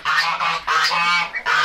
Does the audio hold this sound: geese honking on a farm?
yes